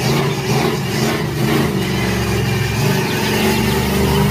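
Toy bus sounding a continuous dense engine rumble, steady and loud throughout with a busy mechanical texture and no pauses.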